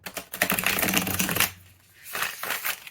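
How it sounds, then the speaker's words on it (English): A thick tarot card deck of cardstock is riffle-shuffled by hand, giving a dense fluttering rattle for about a second and a half, then short softer bursts of card handling. "let's see how it shuffles"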